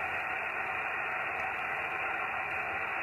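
A Yaesu FT-817 radio receiver with a newly installed 500 Hz filter hisses with steady, band-limited static, even and unbroken, at moderate volume with no voices.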